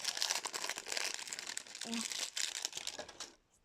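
Thin plastic film crinkles and rustles continuously as it is peeled off the packaging of an LOL doll, a busy, close crackling that fades out at the end, with a voice briefly audible under it.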